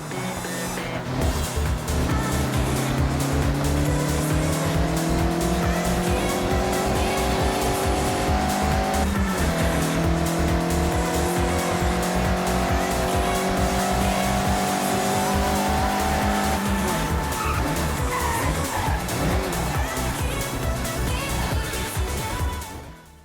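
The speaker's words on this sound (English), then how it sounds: "Attack these corners. Don't worry about traction. The MX-5 likes to be sideways." A Mazda MX-5 drifting through corners in the Forza Horizon 6 racing game, its engine revving in long rising and falling sweeps while the tyres squeal, loud and continuous for over twenty seconds before cutting off.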